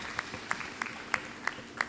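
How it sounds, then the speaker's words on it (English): Sparse audience clapping during a live hot glass blowing demonstration, a few distinct claps spaced roughly every third of a second over a faint background, light and thin rather than a full crowd. "Let's give them a nice round of applause."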